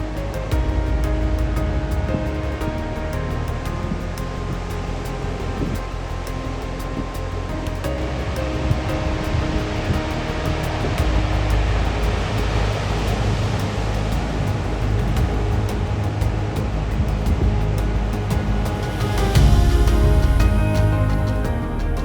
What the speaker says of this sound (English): so does the ceaseless rhythm of the sea